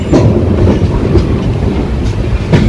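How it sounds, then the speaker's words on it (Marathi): A passenger train runs along the rails with a loud, continuous rumble and rattling clatter of wheels, heard close up from on board with no talk. "ही ट्रेन जरा चकाचक आहे"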